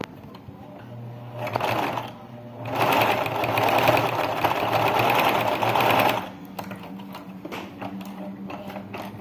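A home sewing machine stitching a seam on a baby slipper, heard as a steady close whirring run of several seconds with short bursts before and after, under someone talking.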